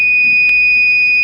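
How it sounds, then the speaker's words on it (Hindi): A homemade eyelid-closure alarm for drivers sounds a steady, piercing electronic tone with a brief extra blip partway through, loud and continuous in a studio on a morning TV show. "जब तक मेरा पलक बंद होते है उस वक्त ये अलार्म बजता।"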